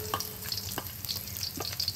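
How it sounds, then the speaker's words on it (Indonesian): Sliced shallots and garlic fry in hot oil, giving a steady close sizzle with crackling pops and occasional stirring scrapes, and no voices. "Kita akan goreng bawang pula"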